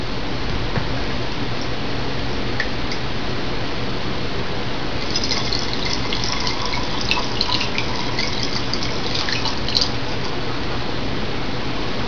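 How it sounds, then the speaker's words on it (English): Homemade spirits poured through a funnel into a sterilized dark glass bottle, a steady trickling gurgle that runs continuously and grows brighter and splashier partway through. "and fill the bottle."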